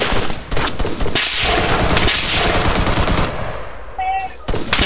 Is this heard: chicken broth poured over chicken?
no